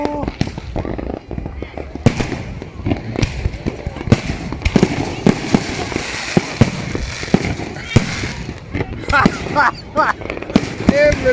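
Fireworks and firecrackers burst all around during New Year in Phuket, Thailand, with rapid cracks, booms and crackling volleys overlapping close by and far off, while people talk through the din.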